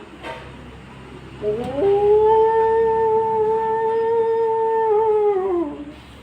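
A human voice imitates a crying dog's howl, a single long, sustained, wavering wail that rises at the start and sinks at the end, loud and close, with no other talk.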